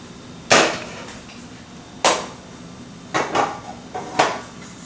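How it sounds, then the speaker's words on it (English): A healthy low-fat protein pancake is eased off the pan onto a plate, with a few sharp clinks and taps of utensil against pan and plate spaced over several seconds, close and fairly loud. "you might need to slide it a little bit to get it onto the plate"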